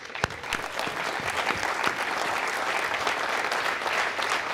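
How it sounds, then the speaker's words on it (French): Steady applause from an audience, dense overlapping claps filling the room at an even level for several seconds, with a few sharper individual claps standing out near the start. "il faut applaudir pour Colleferro"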